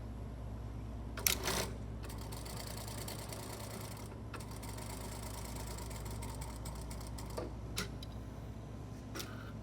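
A sewing machine stitches a shirt collar in short bursts, its quiet rapid needle clatter starting and stopping against a low steady hum in a still room.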